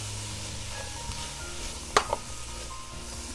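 Bell peppers sizzle softly in a cooking pot as they are stirred in with green onions, a steady low frying hiss broken by one or two brief clanks of the spoon.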